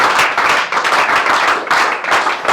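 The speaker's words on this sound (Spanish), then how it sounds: "Dale un aplauso al Señor Jesucristo." Church congregation clapping together in loud, dense bursts that swell and dip in a rough pulse, many hands close by, with little talk.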